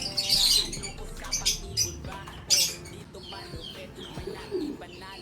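Racing pigeons at a loft, with soft coos and scattered chirps and squawks arriving in short bursts, close and fairly loud, over a low background murmur.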